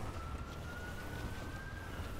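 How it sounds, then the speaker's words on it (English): A steady police siren in a video game wails faintly in the distance over a rumbling background, holding a sustained tone throughout. "I hear sirens getting closer"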